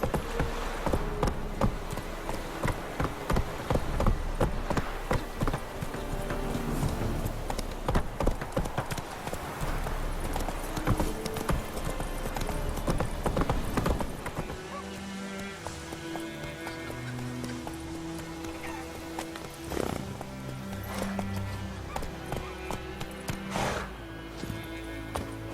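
Hooves of Roach, the horse in The Witcher 3, pound in a rapid galloping clip-clop for the first half, then ease to a quieter rhythm with scattered hoof hits over game ambience.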